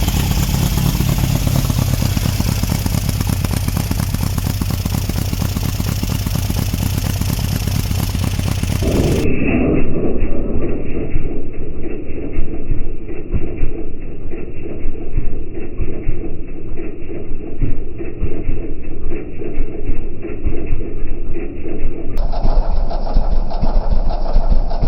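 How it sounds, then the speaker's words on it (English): A 1969 Volkswagen Baja Bug idles with a loud, steady, throbbing air-cooled engine and exhaust note close by, running continuously throughout. "I like that exhaust."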